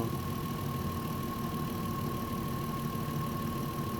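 A car engine idles steadily at close range while warming up toward 90 degrees, a low continuous rumble with a faint whine and no voices.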